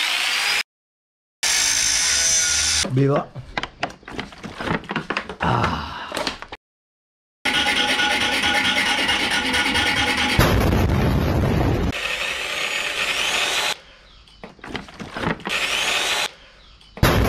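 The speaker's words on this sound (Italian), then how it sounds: "Adesso prendiamo il flessibile e tagliamo la moto." An angle grinder cuts through a motorcycle part in a home workshop: loud, harsh, sustained grinding bursts broken by short silent gaps.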